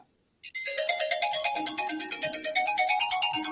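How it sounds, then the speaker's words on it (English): A mobile phone ringtone starts abruptly and rings loudly during a podcast recording. Its quick repeating electronic melody pulses in a steady rhythm with no talk over it. "Someone's phone shouldn't be on."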